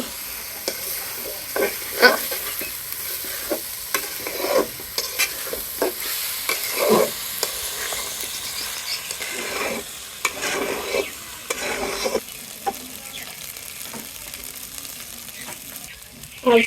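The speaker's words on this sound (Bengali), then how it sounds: "আমি পোলাও চালগুলো একটু ভালো করে ভাজে নিব" Polao rice being fried and stirred in a pot, with a continuous sizzle and repeated scraping strokes of a spoon against the pot throughout, fairly close and steady.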